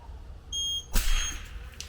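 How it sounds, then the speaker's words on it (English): An electronic timer at a .22 rimfire benchrest shooting match gives a steady tonal beep of about a quarter second, followed by a sharp loud gunshot crack and brief echo, fairly close. "You can hear the timer, 30 seconds remaining"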